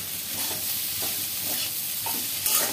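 Ground roasted coriander and cumin powder with chilli flakes stirred in a hot frying pan, a soft steady sizzle with scraping stir strokes, close and alone without talk.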